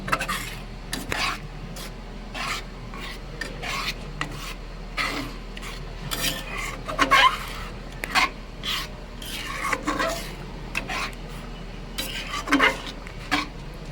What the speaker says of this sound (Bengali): ড্রাই ফ্রুট দেওয়ার পরে আরেকবার ভালোভাবে মিশিয়ে নেব